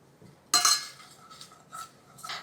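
Spices lightly roasted in a dry pan, with a sudden scrape and clink followed by a few softer stirring scrapes, quiet and close, no talk.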